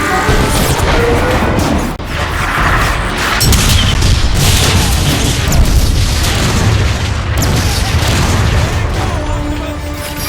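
An artillery strike pounds the battlefield in the video game Transformers: Fall of Cybertron, producing a dense, loud barrage of booming explosions and crashing impacts that rumble continuously without pause.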